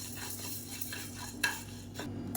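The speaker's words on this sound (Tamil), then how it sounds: "ஒரு டம்ளர் அளவுக்கு உளுந்து கொஞ்சம் நல்லா சிவந்து வர அளவுக்கு வறுத்துக்கலாம்." Urad dal dry-roasts in a pan without oil, with a soft rustling scrape from stirring, a faint sizzle underneath and one sharper utensil knock partway through.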